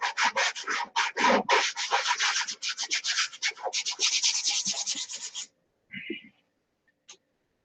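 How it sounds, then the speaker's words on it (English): A surface is hand-sanded before painting with rapid back-and-forth scratchy strokes that come in dense, steady bursts, then stop. A couple of faint knocks follow in near silence. "it didn't take nothing to sand it out there"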